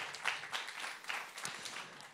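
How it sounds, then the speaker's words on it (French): A conference audience claps for a colleague, a short burst of scattered applause with a few individual sharp claps, faint and somewhat distant, lasting about two seconds. "On peut l'applaudir."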